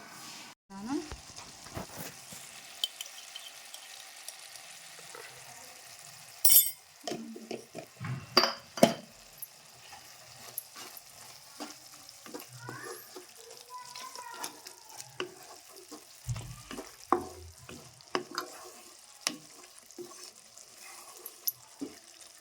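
Prawn and tomato curry simmers in a pan with a faint, steady sizzle and bubbling, broken by occasional clinks and stirring knocks, while someone talks quietly at times.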